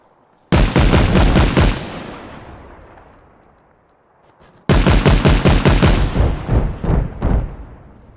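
Two loud bursts of automatic gunfire in Arma, each a quick string of sharp close shots with a long rolling echo fading after the first burst, the second followed by a few scattered shots.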